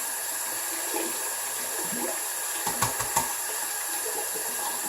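Running water splashes steadily over a razor rinsed mid head shave with a Harry's razor, a constant broadband hiss with a few soft knocks near the end, close and alone.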